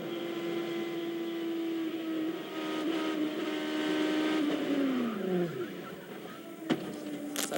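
An IndyCar engine screams at the 2007 Firestone Indy 200 at Nashville Superspeedway, holding a loud, steady high-revving note, then dropping sharply in pitch as the driver lifts off before sharp mechanical clicks.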